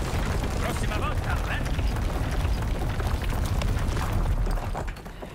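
Fireworks-like explosions in the Resident Evil 4 video game, a loud continuous barrage of booms and crackling blasts that tapers off near the end.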